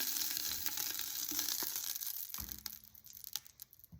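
Pork loin browning in a pan for a classic Italian Sunday sauce, a steady loud sizzle that eases off toward the end, with a few utensil clicks and scrapes over the frying.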